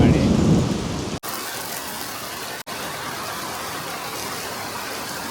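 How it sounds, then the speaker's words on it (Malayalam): Heavy rain pours outside while a deep roll of thunder rumbles loudly at the start and fades, leaving a steady hiss of rainfall that continues to the end. "നല്ല ഇടിയുണ്ട് കേട്ടോ."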